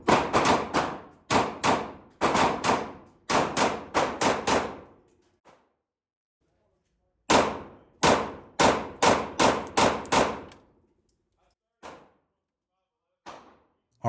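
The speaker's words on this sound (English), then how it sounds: "he's going to shoot that G45 with the Triggershark carry trigger" A Glock G45 pistol fitted with a Triggershark carry trigger fires in sharp, loud, evenly spaced shots, a string of about seven, a pause, then roughly seven more, with a couple of faint distant reports near the end.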